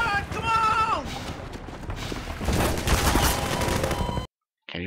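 Rapid gunfire and fusillade crackle in Half-Life 2, dense bursts of shots with game sounds layered over them before a sudden cut to silence and a final short sound.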